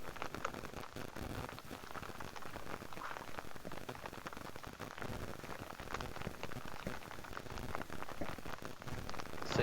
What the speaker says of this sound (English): a few weeks later we had absolutely torrential rain. So that's what we're experiencing right now.